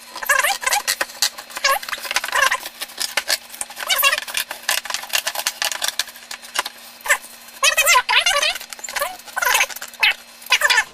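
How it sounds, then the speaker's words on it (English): Scissors or a blade cut through the lid of a cardboard shoebox up close, giving a run of irregular crisp snips, crackles and scraping cardboard rustles with short pauses between bursts. "First thing I'm gonna do is cut the lid off."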